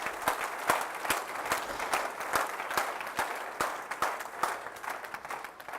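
A church congregation claps loudly at a pastor's sermon, rhythmic and fairly even, with sharp hand claps standing out over a general crowd wash.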